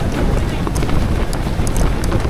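Strong storm wind gusts at a camp on an island in Perlis, roaring loudly and constantly with buffeting rumble against the microphone and tent, with brief flapping bursts and no speech.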